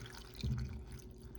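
Milk poured into a protein smoothie gives a brief, soft liquid gurgle and trickle, faint and close, lasting about a second.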